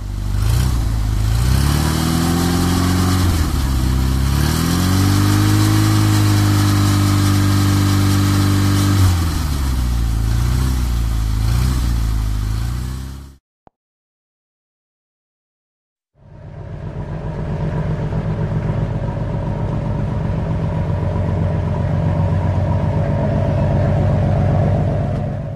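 A car engine running loudly up close, holding a steady rumble with rising and falling revs, cutting out into a few seconds of silence, then starting up again into a constant drone.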